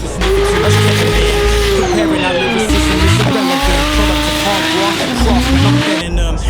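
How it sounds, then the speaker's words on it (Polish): A turbocharged Nissan drift car on a track during practice runs, with loud engine revving, rising and falling pitch, and tire squeal from sliding, all close and continuous under background music. "I jadę zrobić kilka przejazdów treningowych w klasie Masters."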